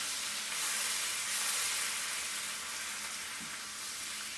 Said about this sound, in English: We're going to let this fry for about 30 seconds.